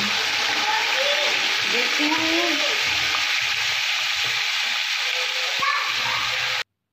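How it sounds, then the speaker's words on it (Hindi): Beef pieces frying in oil with onions for a beef pulao give a loud, continuous close-up sizzle and hiss that holds steady throughout before cutting off abruptly at the end. "अब मैं गोश्त को इसमें ऑयल में प्याज में डाल दूँगी, और गोश्त को भी हम अच्छी तरह से फ्राई कर लेंगे, भून लेंगे"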